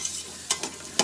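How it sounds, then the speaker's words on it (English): Thai red curry cooking over a bush camp stove: a soft steady sizzle with a few quick scraping stirs of a utensil in the pan, close and brief. "What are you cooking for us? Thai red curry."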